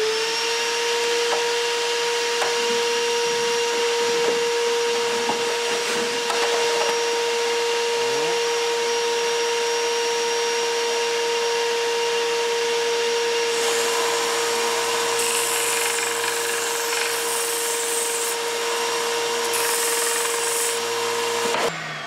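A vacuum cleaner runs steadily through a scrap length of white PVC tubing fitted to its outlet in a woodworking shop, a loud sustained whine with a shifting pitch and brief hissy rushes of air.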